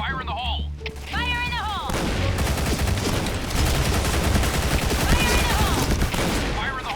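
Rapid bursts of gunfire and explosions from an online shooter video game fill the scene, dense and continuous after an opening second, with someone talking excitedly over the shooting.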